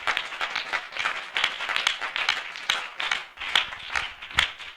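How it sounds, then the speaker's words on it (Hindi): A church congregation claps together in welcome, a dense run of hand claps with sharp individual hits standing out, fairly close and lively throughout. "हम जोरदार ताली से उनका स्वागत करें।"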